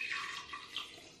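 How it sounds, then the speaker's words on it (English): Cold tap water pours into a tea jug with a built-in filter, a brief soft hissing splash that stays steady and close for just over a second. "I'm going to top this up with water"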